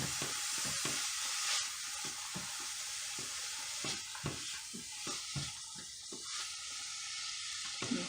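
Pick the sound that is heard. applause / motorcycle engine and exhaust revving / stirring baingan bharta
stirring baingan bharta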